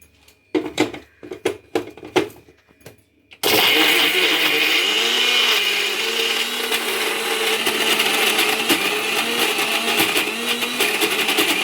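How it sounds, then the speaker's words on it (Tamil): An electric mixer runs steadily and loudly, beating eggs and sugar for a yolk cake batter, after a few seconds of clattering and handling sounds. "அடுத்து முட்டையும் சர்க்கரையும் அடிக்கணும்"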